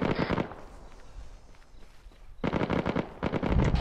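Bursts of automatic gunfire in the Arma 3 military video game, a short opening volley, a quiet gap, then rapid repeated shots that grow louder near the end.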